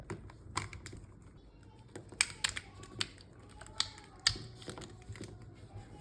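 Plastic pieces of a very quiet Rubik's cube clicking and snapping as it is taken apart by hand: sparse, sharp little clicks and taps at irregular intervals, close and soft, with no talking.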